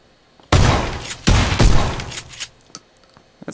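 Loud, close bursts of gunfire erupt in a firefight in PUBG, two heavy volleys with echoing booms followed by scattered fainter shots as the action tails off.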